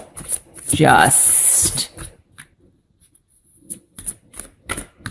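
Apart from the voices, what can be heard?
cutting a deck of tarot cards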